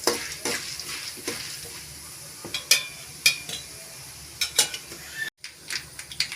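Chana dal and urad dal frying in hot oil, a steady soft sizzle broken by repeated sharp scrapes and clinks of a spoon stirring against the pan, close up, with no voices.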